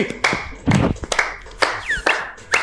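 Several sharp, scattered claps or taps ring out at an uneven pace, fairly close, with only faint background noise between them.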